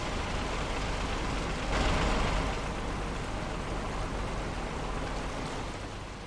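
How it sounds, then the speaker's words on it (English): Light rain falls in the off-road truck game SnowRunner, a steady soft hiss that swells briefly and then settles, mixed with low engine rumble, with no talking. "there's a bit of light rain starting to fall now as well"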